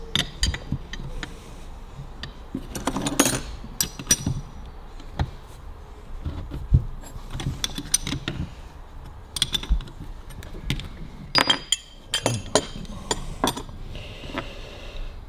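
Metal parts of a 1942 Harley-Davidson WLA clink and tick in scattered, close bursts as a fitting is loosened with hand tools, quiet gaps between the clatters.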